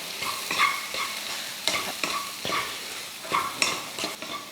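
Raw plantain podimas is stirred in a pan, a utensil scraping and tapping in an irregular rhythm over a soft, steady sizzle, close and fairly quiet.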